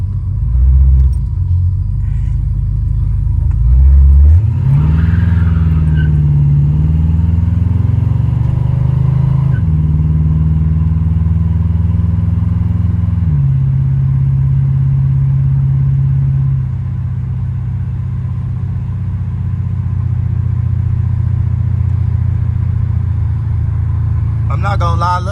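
A 1986 Buick Regal G-body with an Oldsmobile big-block engine and Holley EFI accelerating hard, a loud deep engine roar climbing in pitch through gear pulls, then easing to a steady drone, close inside the car.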